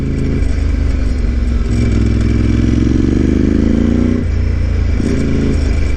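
A motorcycle engine runs loud and close in second gear through small corners on Japan's Yabitsu Pass, Route 70, its pitch rising under steady throttle, then dipping and picking up again, with no voices.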